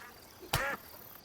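A single short quack from a duck in the video game Chop Chop Inc., heard once and alone over a quiet background hum.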